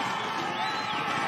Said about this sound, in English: Massive crowd cheering these riders on